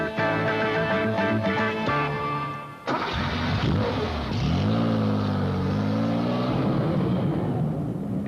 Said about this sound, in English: A car comes to life.